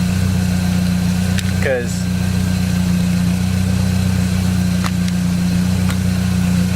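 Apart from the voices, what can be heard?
Saab 9-3 car engine running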